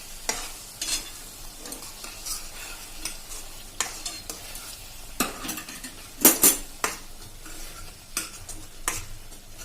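Pav bhaji masala sizzles in a pan while a metal spoon stirs and mixes it, with repeated scraping clinks and taps against the pan over a steady frying hiss, nearby and without talk.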